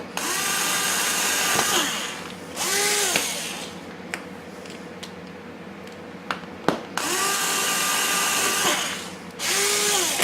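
Power drill whirring in several bursts with a 1/16 inch bit through a QuadLugs 200 Mini+ quadcopter frame, steady high whine rising and falling with short pauses and small clicks between, close and loud, no voices.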